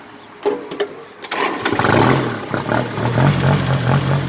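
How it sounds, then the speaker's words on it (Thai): A 2008 Kubota 34-horsepower tractor engine starting, with a few clicks and a cranking catch before the diesel settles into a loud, steady, close running rumble. "เครื่องสตาร์ทติดง่ายครับผมเครื่องแจ๋วเลยครับ"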